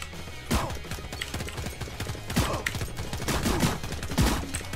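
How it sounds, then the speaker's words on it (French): Gunfire in the video game Radical Heights, bursts of sharp shots with a few louder cracks over a steady background of game noise, loud and close throughout. "Ah, on me tire dessus."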